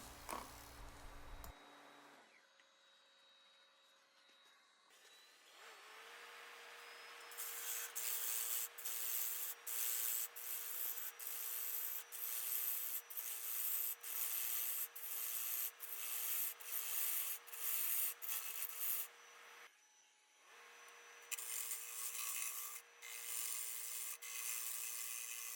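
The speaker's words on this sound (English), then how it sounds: "And then I'm going to use my negative rake scraper to take out any little lines." A negative rake scraper works the surface of a large square wooden bowl spinning on a lathe, giving a fairly loud rasping scrape that stays steady and pulses with each pass. Quieter stretches at the start and a brief pause near the end break it up.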